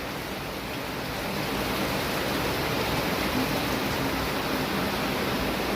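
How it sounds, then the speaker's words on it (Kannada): Steady, dense broadband hiss of rainwater pouring and leaking into a house during heavy rain, continuous and even throughout with no voices. "ಇಲ್ಲಿ ನೀರು ಬಂದಾವ ನೋಡ್ರಿ ಇಲ್ಲಿ ನಿಮ್ಗೆ ಕಾಣಿಸ್ತಿರ್ಬೋದ ಈ ನೀರು ಐತಿ ನೋಡ್ರಿ ಇಲ್ಲಿ ಸೋರುತ್ರಿ ಇಲ್ಲಿ ಅನಿಗೆ ಬೀಳಾಕತ್ತಾವು"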